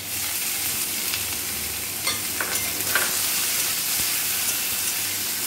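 Steady sizzling of onions frying in hot oil, a constant hiss with a few soft stirring scrapes, close and fairly loud, no voices.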